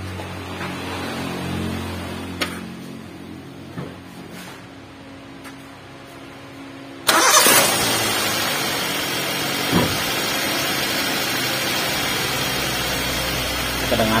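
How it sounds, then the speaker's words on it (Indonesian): A Toyota Avanza engine runs with its fan belt removed, a steady low hum and whir that turns louder and more hissing about halfway through, with faint clicks and a few soft knocks along the way. "Kita coba tes hidupkan mesinnya."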